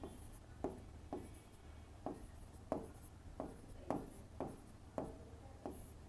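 Chalk or marker writing on a board during a history lesson, a steady series of short scratchy strokes repeating roughly every half second, close and fairly quiet, with no talking.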